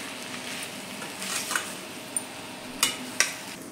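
Drumsticks and potatoes sauté in a mustard spice masala in a pan: a quiet, low sizzle under soft stirring, broken by a few sharp clinks of a spoon against the pan.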